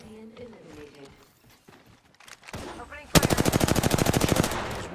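Gunfire in a video game of team battles: after game voices and effects, a fast automatic weapon lets off a loud, steady rapid-fire burst lasting nearly two seconds.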